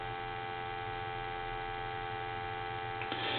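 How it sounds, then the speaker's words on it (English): A steady dial tone comes from a repaired Crosley wood wall telephone: a continuous, even hum with stacked harmonics that holds at constant loudness throughout, with a faint click near the end. "I guess you can hear that dial tone."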